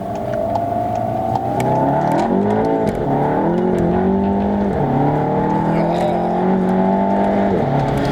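Modified VW Golf 7 GTI with 359 kW and 750 Nm accelerating hard, engine note climbing through gear changes with dips and rises, loud and close from inside the car.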